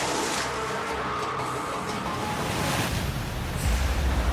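Ocean breakers crash and wash near a small dinghy while out lobster fishing, a loud continuous roar of surf mixed with heavy wind buffeting the microphone, swelling again toward the end.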